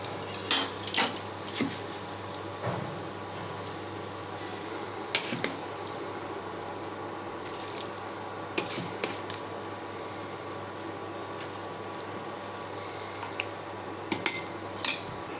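Washed rice tipped into a pot of hot water for chicken biryani, with scattered clinks and scrapes of a utensil against the pot over a steady background hum.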